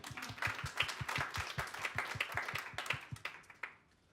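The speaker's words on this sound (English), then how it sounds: "it deserves a round of applause for Josh" Audience applause for a music teacher at a talk in a music museum, a dense steady patter of many hands clapping close by for about four seconds, fading out at the end.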